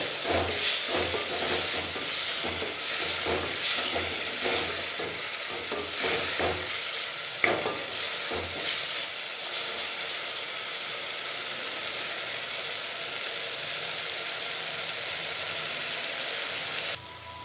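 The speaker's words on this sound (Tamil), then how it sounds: "இப்போ இது கூட இஞ்சி பூண்டு பேஸ்ட்டை மிக்ஸ் பண்ணிடணும். நல்லா மிக்ஸ் பண்ணிட்டு அதோட பச்சை வாசனை போகிற வரைக்கும் நல்லா வதக்கணும்." Onion, tomato and ginger garlic paste sauté in oil for a quail curry, a continuous hissing sizzle with rhythmic stirring scrapes early on that give way to a steady fry.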